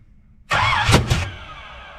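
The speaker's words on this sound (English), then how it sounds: "That backfired directly through the intake" A small-block 350 V8 fed by a cheap aftermarket carburetor backfires through the intake, giving a sudden loud burst that breaks into two sharp cracks before fading into a ringing tail.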